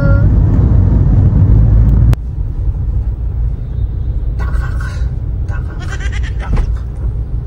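A Honda Civic fitted with budget suspension parts jolts over potholed road, heard from inside as a heavy low rumble that is loud at first, then eases, with voices talking over it.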